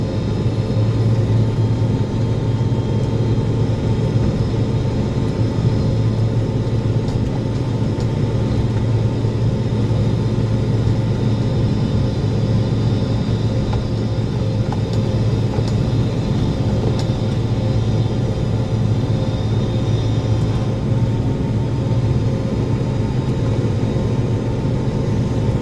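A forage chopper harvesting corn roars with a steady, heavy mechanical drone without a break, deep and loud throughout.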